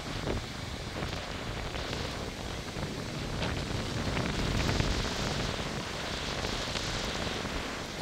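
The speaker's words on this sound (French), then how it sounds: "Toujours du vent de sud, que du vent de sud." Strong south wind during a storm roars steadily as a dense, continuous rush buffeting the microphone, with no talk over it.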